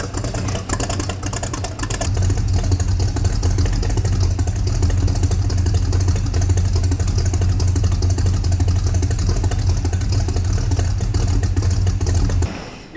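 A 1958 Plymouth barn-find engine idles low and steady at close range, a deep continuous rumble with no talk, cutting off abruptly near the end.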